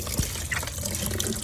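Engine oil drains from an old Hyundai Santa Fe in a steady close trickle of pouring liquid, quiet and continuous.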